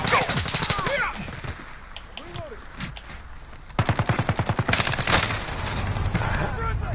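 Rapid automatic gunfire in Call of Duty Modern Warfare multiplayer, with dense bursts of close shots in a fast rhythmic rattle, the loudest volley near the middle, mixed with game effects and voices talking.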